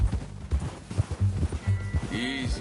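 Horse hooves clip-clop in a steady rhythmic gait during a ride in a video game, close and fairly loud, with a short spoken word and a brief whinny-like tone near the end.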